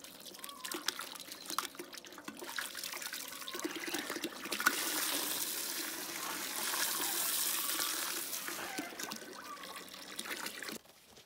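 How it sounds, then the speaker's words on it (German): Water gushes from a hose into a container of mirabelle plum mash, a steady rushing pour that swells in the middle and tapers off near the end, with no talk. "So, ich fülle das jetzt mit Wasser auf."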